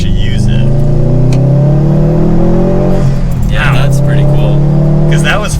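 A Subaru WRX STI engine revs hard and pulls through the gears, a loud, continuous close-up drone rising and falling in pitch, with voices talking over it.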